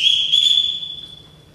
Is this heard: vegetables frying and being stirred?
no